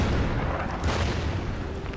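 Artillery barrage in a strategy game: a dense, loud rumble of overlapping booms with no pause.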